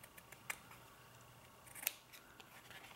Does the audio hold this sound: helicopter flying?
no